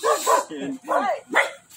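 A dog barks a few times near a house during a Christmas visit. The short, sharp barks and yips come in quick succession, close and fairly loud.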